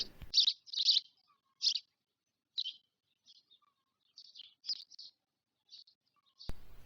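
Short, high chirps from a stork circling over its nest come in irregular bursts with brief silent gaps, clear and fairly close, with no voices.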